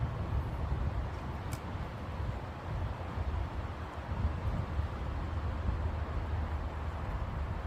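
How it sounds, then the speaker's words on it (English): Low, rumbling wind noise buffets steadily, a constant gusty roar with no talking. "It is a very windy day."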